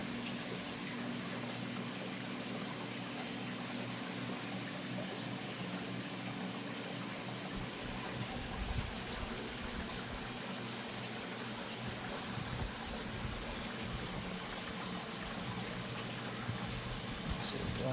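Steady broadband rush of creek water flowing nearby, continuous and even for the whole stretch, with faint handling noises from garden work beside the stream.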